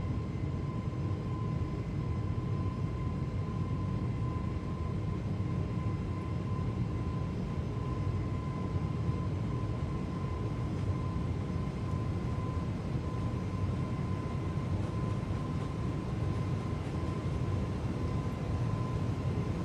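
Airbus A320 engines spool to takeoff power on the runway in a flight simulator game, a steady faint roar with a constant tonal whine and no voices.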